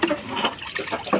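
Water being poured out for young chicks, a short splashing, gurgling pour in bursts, close and moderately loud.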